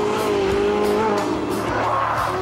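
A Ferrari 458 Italia with 570 horsepower howls continuously on a race track, its high engine note rising and falling through gear changes while tyres squeal and skid, loud and close throughout.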